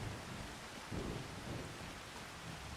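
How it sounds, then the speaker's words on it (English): Rain and thunder in Farming Simulator 25 on a forestry logging map: a steady, soft wash of rainfall with low rumbling swells underneath, faint and continuous throughout. "So it's going to be raining"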